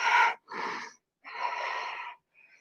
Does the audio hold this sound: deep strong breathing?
yes